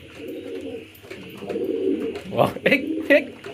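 Pigeons coo close by, soft throaty calls building through the moment, joined by a few sharper wing flutters or scuffles near the end as a red pigeon tries to pair with another bird.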